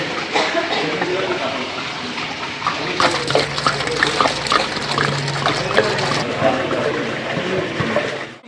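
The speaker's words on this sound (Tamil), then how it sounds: "இப்போ வந்து உலகி தண்ணி ஊற்றிக்கலாம்." Water pours into a large cooking vessel being readied for Dindigul-style seeraga samba biryani, a steady rushing splash that grows busier midway, with people talking nearby.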